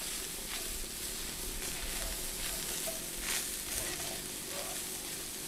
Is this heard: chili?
yes